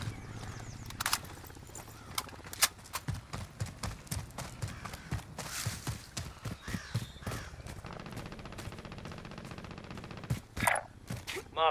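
Gunfire in a first-person shooter video game, with scattered sharp shots and short bursts at moderate loudness, mixed with clattering game effects and some talk between players.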